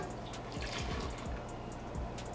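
Bloomed yeast liquid poured quickly into a bowl of bun dough ingredients in a home kitchen, giving a short, quiet run of splashing and dripping pours.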